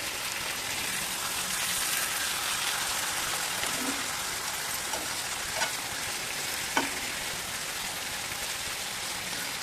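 A spoon stirs fish curry with gravy in a hot pan, a steady sizzle underneath with a few scraping clinks, close and alone with no talking.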